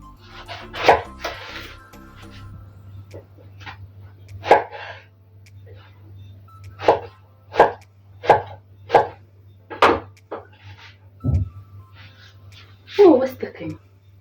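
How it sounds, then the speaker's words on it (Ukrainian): Several sharp knife chops dice eggplant on a cutting board, spaced irregularly with a low steady hum underneath and brief speech in places. "І можна навіть трошечки більшим кубиком нарізати баклажани"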